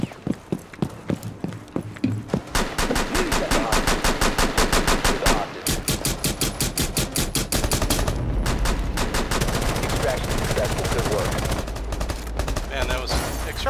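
Rapid gunfire from a Rainbow Six Siege Terrorist Hunt match, starting as sparse shots and building into dense, loud automatic bursts with pistol fire mixed in, continuous through the stretch.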